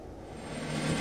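A helicopter's engine and rotors make a steady, close, whooshing drone that swells slightly louder toward the end. No one speaks.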